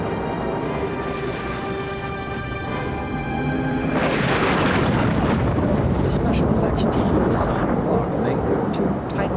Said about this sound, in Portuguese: a rocha foi explodida com ar comprimido.